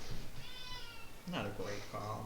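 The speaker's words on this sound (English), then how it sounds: "I'm sure you can hear him meowing" A cat meows a few times indoors, drawn-out tonal cries close to the microphone, overlapping with someone speaking quietly.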